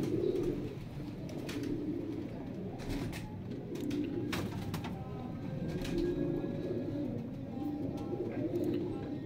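Pigeons coo continuously at a breeder's loft in Faisalabad, a dense, low, overlapping murmur with occasional clatter.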